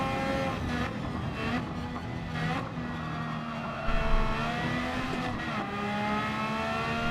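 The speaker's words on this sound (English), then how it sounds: "Let it rev out in second" A race car in Gran Turismo 7 revs out in second gear, its engine holding a loud, steady, harmonic-rich whine that climbs and settles, with a brief surge partway through.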